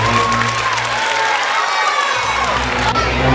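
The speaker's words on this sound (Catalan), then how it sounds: "Un aplaudiment per a ells." Dense applause from a crowd at a literary prize ceremony, steady and loud throughout, with some cheering mixed in.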